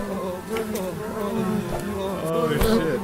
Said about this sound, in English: What is this, a can of bumblebees?